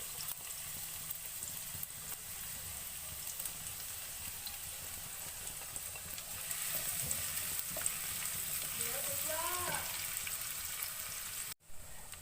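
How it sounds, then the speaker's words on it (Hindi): Finely chopped medium onion frying in oil for a paneer tikka masala, a steady close hiss of sizzling with light stirring and scraping midway, no talk. "अब इस ऑयल में हम शामिल करेंगे एक मीडियम साइज का प्याज बारीक चॉप करके"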